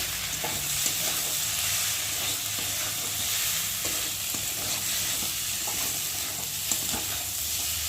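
Loitta (Bombay duck) fish seasoned with turmeric, salt and red chili powder frying in a pan, a continuous close sizzle with intermittent stirring scrapes throughout, no talking.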